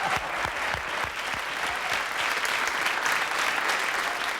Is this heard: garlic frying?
no